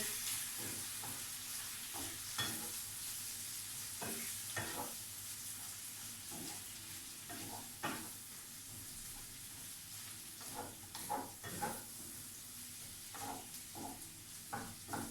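Two scrambled eggs with plenty of add-ins frying over a low flame in a pan, a steady soft sizzle broken by repeated scraping stirs of a utensil, close and continuous with no talking.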